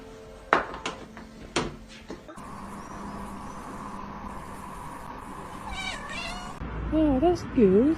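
A little kitten meows several times near the end in short, rising and falling high cries, after a few sharp knocks and a steady background hum, with people talking softly in between.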